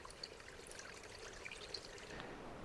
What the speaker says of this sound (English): I was just refilling some water jugs here